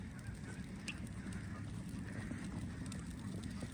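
Geese honk faintly in the distance among other bird calls by a man-made lake, over a steady outdoor rush of background noise.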